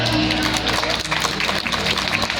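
An audience at a kavi sammelan poetry gathering in Shravasti claps throughout, a thin, steady patter of hands from a modest crowd with a voice talking over it.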